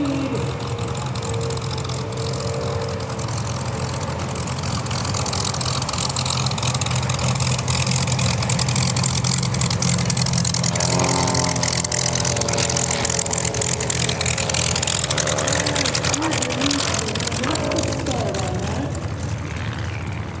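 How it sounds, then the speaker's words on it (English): A modified Pitts S1 biplane with a high-compression 230 horsepower engine roars steadily and loudly during an air race, its propeller drone holding for about twenty seconds with slight shifts in pitch. "His airplane is a modified Pitts S1."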